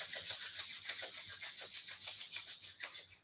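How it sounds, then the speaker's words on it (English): Two hands rub together during a yoga stress-reduction session. The sound is a soft, continuous dry swishing in quick repeated strokes, close by, with no talking. "Bring your hands together, rubbing your hands together."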